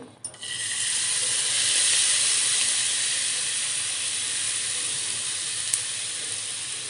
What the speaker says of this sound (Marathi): तूप गरम झालं आहे तुपावर आता आपण हे मिक्स केलेलं सगळं साहित्य ॲड करायचं आहे